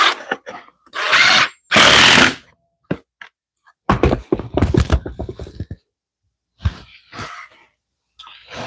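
Bursts of a power drill driving screws into a wooden cutting board jig, several short whirring runs separated by silence, close and loud, with a few clattering taps between.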